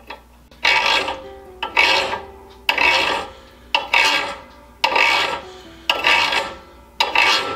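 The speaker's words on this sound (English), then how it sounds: "you want to roll the file around so that you're not just filing a flat in the threads" A thread restoring file works the pilot threads of an auger bit in seven steady, evenly spaced rasping strokes, each a close, bright scrape with brief pauses between.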